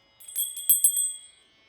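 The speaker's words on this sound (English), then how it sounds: "When we hear the bell, we bring our minds to the present." A bright meditation bell rings briefly with a shimmering, tinkling tone that rings out and fades within about a second, alone in quiet.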